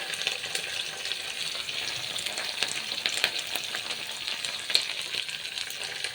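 Curry leaves and coriander sizzling in hot oil while cooking Andhra-style palakura pappu (spinach dal), a steady close crackling hiss with small pops and occasional stirring scrapes.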